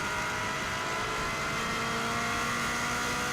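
Rally car at full throttle on a road stage on the Isle of Man, a steady, dense engine roar with a constant high whine that holds loud and close for the whole stretch, with no talking.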